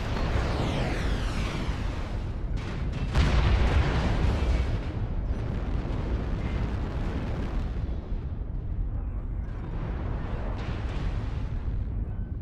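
Repeated artillery strike blasts in MechWarrior Online, loud rumbling explosions layered continuously with a heavier burst around a few seconds in, no talk over them.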